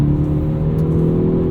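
A Hyundai Veloster N's exhaust sounds during a night drive, a loud, steady, low droning engine note with strong tonal hum, heard without any talking.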